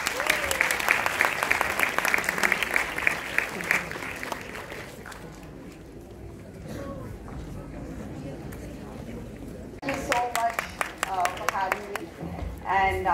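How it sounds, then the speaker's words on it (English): Audience applause at the UDYOG 2022 gathering, clapping steadily for the first five seconds, fading to a quiet stretch, then rising again with scattered claps toward the end. "Can we have a round of applause,"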